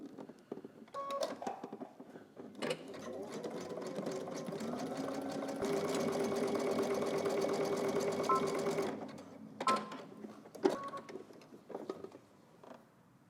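A sewing machine runs a continuous zigzag stitch across elastic on a garment waistband, a steady mechanical whir of several seconds framed by shorter start-and-stop bursts, close and clear with no talk.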